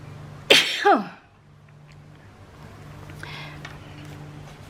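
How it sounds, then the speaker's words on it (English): A single sharp human sneeze, close and loud, bursting out once and quickly fading into a quiet room with a low steady hum beneath. "I am going to sneeze"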